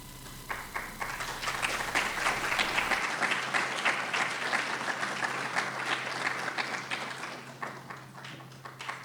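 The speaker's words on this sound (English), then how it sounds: "Let's give her a round of applause." An audience at a college food security summit applauds a standing guest, with sustained mid-distance clapping and a few louder individual claps that fades gently toward the end.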